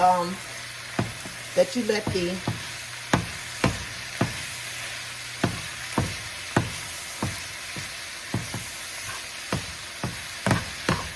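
Cabbage cooking down with bacon and sausage sizzles steadily in a pan while a spoon scrapes and stirs it, giving sharp knocks against the pan at an irregular, roughly once-a-second pace, close and fairly loud.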